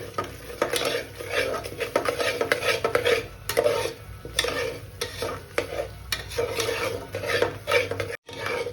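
Masala for chicken curry sautéing in oil in a pan, with steady sizzling and repeated scraping strokes of a spoon against the metal, close and continuous.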